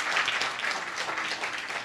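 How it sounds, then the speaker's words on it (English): An audience at a book launch claps steadily, a dense wash of applause from a room of people, fairly near and continuous without pause. "Please give him a round of applause."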